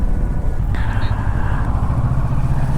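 Kawasaki Versys 650 motorcycle ridden on the winding Agumbe Ghat road, a steady close engine drone mixed with wind rush, continuous throughout.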